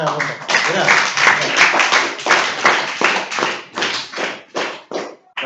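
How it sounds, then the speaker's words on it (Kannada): Children in a classroom clapping in rapid rhythmic bursts, loud and close, with short pauses between rounds of claps and voices mixed in. "ಒಡೆ ಚಪ್ಪಾಳೆ"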